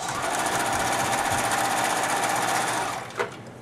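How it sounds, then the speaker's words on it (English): A sewing machine runs steadily in a straight stitch along the edge of paired fabric squares, a loud continuous whirring drone that stops near the end with a brief click. "First you'll do a straight stitch with your presser foot on the edge."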